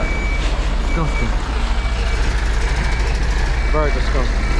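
A truck reverses with its warning beeper sounding in short repeated beeps over a heavy diesel engine rumble, close by, with people talking nearby.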